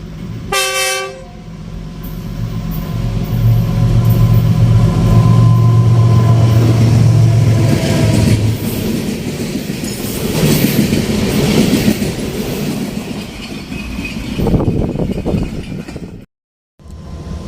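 A train pulls into a station on its way to the Mughal Pura railway workshop, loud and close, with a long horn blast over rumbling wheels and rhythmic clatter of cars that fades near the end.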